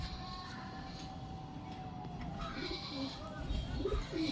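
Pigeons in a home loft give soft, low cooing calls, faint and intermittent, becoming more noticeable toward the end against a quiet background murmur.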